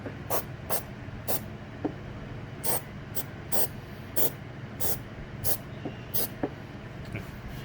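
Aerosol spray paint hisses onto bare metal on a Nissan Frontier hitch wiring harness in a series of about a dozen short, evenly spaced bursts, close and alone.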